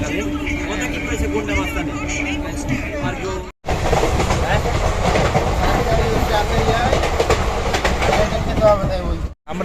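Lalgola–Sealdah MEMU passenger train rolling on rails near Krishnanagar station, a steady loud rumble of wheels and carriage noise with crowd babble inside, broken by two brief dropouts.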